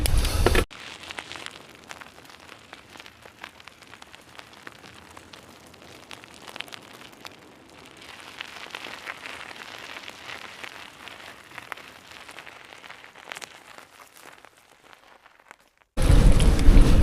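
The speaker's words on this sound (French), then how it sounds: "Là c'est bizarre, on dirait qu'il pleut." Rain patters steadily on foliage and ground on a mountain bike trail after heavy clouds, a soft continuous hiss with scattered drops running for about fifteen seconds, framed by louder bursts at the start and end.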